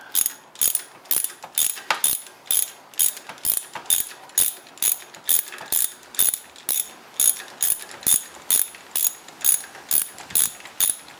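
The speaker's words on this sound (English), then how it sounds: "we can now just fasten a 17mm socket straight onto this second plug spanner to then give us easy removal of the plug" A ratchet with a 17mm socket on a spark plug spanner turns out a Tenere 700 motorcycle spark plug, making close, loud, evenly spaced bursts of rapid clicking, about twenty strokes in a steady rhythm, with no voices.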